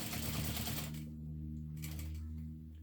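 A sewing machine runs as it stitches together the two exterior pieces of a crossover clutch bag, a close steady whirring hum that briefly pauses and then resumes, quiet overall.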